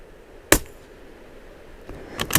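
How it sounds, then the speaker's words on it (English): A .22LR rifle firing Eley standard ammunition gives one sharp crack, followed by a second shot later. Both are brief and fairly close, set against a quiet background of wind. "I'm gonna shoot at the 8x8 first to see."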